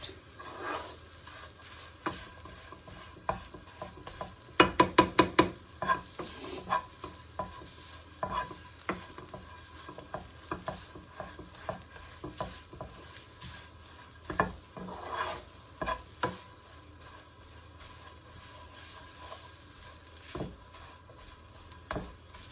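Tomato puree for chole cooks in a pan with a quiet, steady sizzle, broken by a quick burst of spoon clatter early on and scattered stirring knocks afterward.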